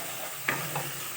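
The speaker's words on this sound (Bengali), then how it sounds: "পোস্তটা দিয়েও এর সঙ্গে নেড়ে চেড়ে নিচ্ছে।" Pabda fish with poppy seed paste is stirred in a pan of oil, a steady close sizzle broken by one sharp scrape of a spatula and a softer second stroke.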